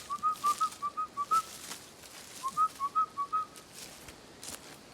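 A person whistles to call a puppy on a walk, two bursts of short repeated whistled notes in quick rhythm with a pause between, clear and fairly close with no talk.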